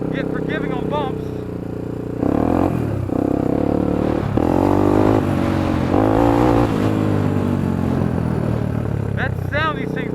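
A Honda 300EX ATV engine revs in several rising bursts, the loud buzzy pulses coming and going outdoors while someone talks over it near the start and end.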